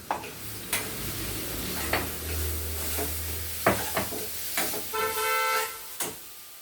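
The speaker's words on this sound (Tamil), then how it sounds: "உப்புக்கப்புறம் கொஞ்சம் நேரம் அப்படியே நல்லா வதக்கிட்டு தண்ணி ஊற்றணும்." Spices, coriander powder and salt sautéing in a pan for a dhaba-style paneer curry: steady close sizzle with repeated clinks and scrapes of a stirring spoon, alone without talk.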